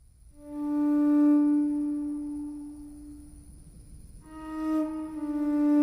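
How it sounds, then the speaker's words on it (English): A steady electronic telephone tone hums loud and clear as the line goes dead, dropping away for a few seconds before returning for the last stretch. "That is the sound of the line going dead."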